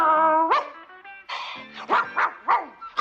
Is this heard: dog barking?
yes